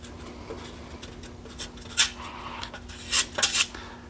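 JB Weld filler is lightly spread over the rusty metal of a vintage Simplicity tractor seat, making soft, close scraping strokes that come in short irregular bursts against a faint steady hum.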